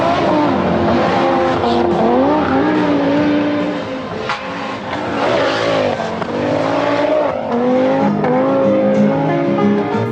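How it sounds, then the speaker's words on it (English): A five-cylinder Audi rally car engine revving hard, its pitch climbing and dropping as the throttle opens and lifts, loud and close with tyre noise underneath and no talk. "The second thing is the sound of a 5-cylinder engine. It made a very distinctive sound when you let off the gas."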